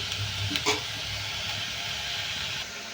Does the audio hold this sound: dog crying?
no